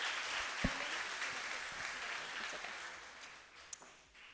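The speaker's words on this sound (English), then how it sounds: "please give them a round of applause" Applause from an audience at a spring awards breakfast: a steady wash of clapping that fills the whole stretch, moderately loud and fading slightly toward the end.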